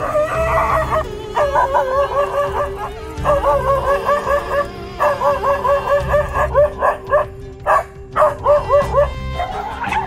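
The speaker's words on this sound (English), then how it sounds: "the dog's courage made him stand bravely and bark fiercely" A dog barks and yelps fiercely in repeated rapid bursts, then gives sharper single barks, loud and close, over a steady low rumble in the background.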